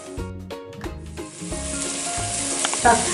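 Ginger garlic paste frying with onion and tomato in a cooker for kuska plain biriyani, giving a steady, close sizzle that runs under prominent background music throughout.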